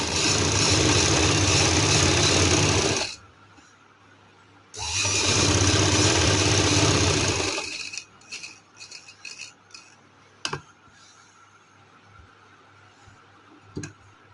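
An electric sewing machine stitching fabric for a party-wear dress runs in two sustained, whirring bursts of about three seconds each, then falls to quiet with scattered light clicks and handling knocks.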